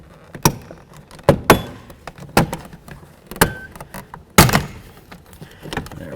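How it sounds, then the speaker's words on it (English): Sharp plastic snaps and clicks as a plastic trim panel is pried off a Chevy K1500 pickup door, irregular bursts, several loud pops with quieter creaks between, close by with no talking. "carefully try to pry this away from the door panel"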